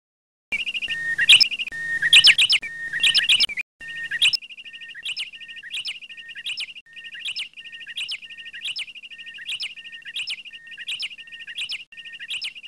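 Birds chirp outdoors in quick, high bursts that repeat in a steady regular rhythm, loud and close, with no voices present.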